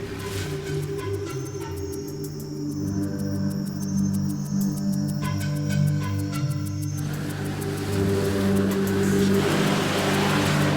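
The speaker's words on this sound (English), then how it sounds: "The four-wheel drives have got as far as they can." Four-wheel drive vehicles grinding along a remote jungle track toward a lost Mayan city, a loud, close, sustained engine drone that rises in pitch and revs harder partway through, without talking.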